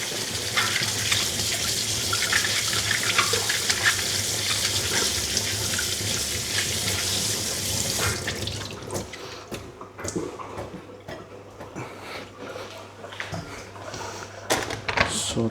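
Tap water gushes steadily into a sink while a zucchini is rinsed under it, a loud continuous splash that cuts off partway, leaving quieter drips and handling clatter.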